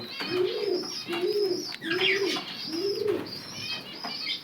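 A pigeon in a loft gives repeated soft cooing calls, four evenly spaced rolling coos in close succession, near and clear, with faint chirps in the background and no talk.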